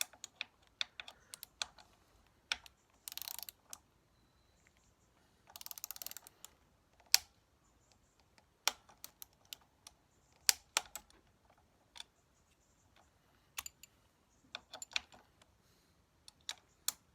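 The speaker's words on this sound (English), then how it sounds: "we're just going to torque these up now to that 10 Newton meters" Close clicks and short ratcheting bursts from a torque wrench set to 10 newton meters, tightening the bolts on Barkbusters handguards fitted to a Honda CB500X motorcycle, with quiet pauses between the individual clicks and ratchet runs.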